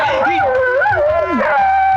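A dog howls and whimpers in long, wavering, pitch-bending cries, loud and close, with a brief dip before a final sustained howl.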